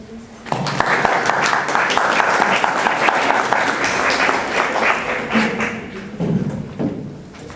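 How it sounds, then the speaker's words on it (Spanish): A lecture audience at a poetry talk breaks into loud, dense applause to welcome Daniel Holgado, building after a brief start and rolling on for about seven seconds with a few heavier thumps near the end. "Recibamos pues a Daniel Holgado con un fuerte aplauso."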